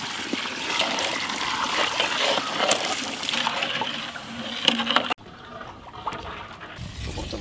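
Water poured from a vessel into sugar in a pan for laddu syrup in a village kitchen, a steady rushing splash for about five seconds that cuts off abruptly, followed by faint trickling.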